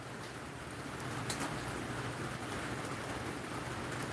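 Steady rain falling outdoors on a rainy day, a dense continuous hiss with a low rumbling undertone and a few sharper drop impacts, with no speech.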